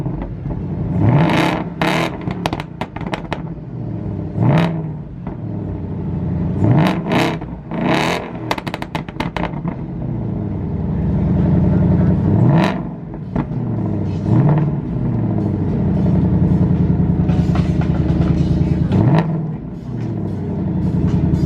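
A 775hp Ford Mustang engine revs repeatedly in sharp loud bursts, then pulls away with a sustained rising roar and further throttle blips, heard close up.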